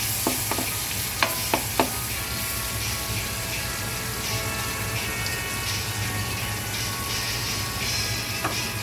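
Onion and garlic sauté in a pan for ginataang kamansi, a steady loud sizzle throughout with a few sharp stirring clicks early on, and no talk.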